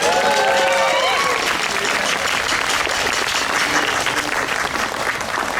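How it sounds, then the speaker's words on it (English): A pub crowd applauds at an evening bash, dense continuous clapping that stays loud and even throughout, with a few voices and faint whoops mixed in near the start. "So let's give him another applause."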